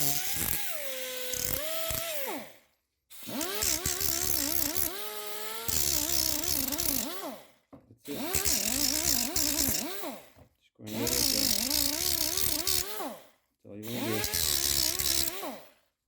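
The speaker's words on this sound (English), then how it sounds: "Just take a wheel like this. And I just grind that edge down." A grinding wheel grinds down the edge of a Mercedes-Benz AMG brake pad in five close bursts of a few seconds each, with whining pitch sweeps and short silent gaps between passes.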